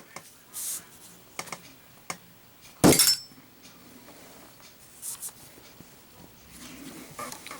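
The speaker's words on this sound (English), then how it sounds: "So that one passed a drop test on the first drop." One loud, sharp clattering impact of a Zippo lighter dropped onto a hard surface, with softer taps before and after in a quiet room.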